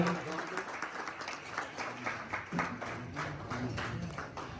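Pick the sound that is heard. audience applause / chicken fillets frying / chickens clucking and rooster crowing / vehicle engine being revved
audience applause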